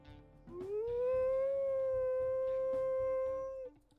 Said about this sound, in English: she has that classic nostalgia howl along with her secondary